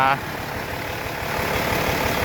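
A tractor engine runs steadily in first gear among banana trees while a pipe is swung into place, a continuous low rumble that swells slightly toward the end.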